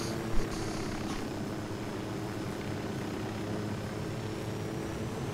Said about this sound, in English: The plane flew away.